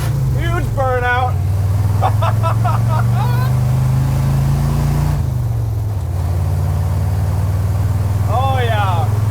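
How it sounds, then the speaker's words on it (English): Fast and Furious 4 hero truck from the gas tanker heist scene doing a huge burnout, engine roaring in a loud steady drone while people talk over it in bursts. "Huge burnout."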